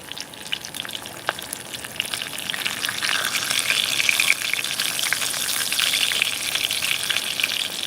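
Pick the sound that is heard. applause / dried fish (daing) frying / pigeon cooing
dried fish (daing) frying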